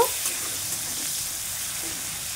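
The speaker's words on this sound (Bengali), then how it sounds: "কুচানো পেঁয়াজ দিয়ে দেবো। পেঁয়াজটা লাল লাল করে ভেজে নেব।" Chopped onions frying in hot oil for a Bengali tilapia curry, a steady soft sizzle that holds at an even level throughout with no talking.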